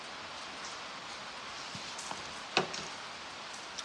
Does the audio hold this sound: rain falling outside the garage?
yes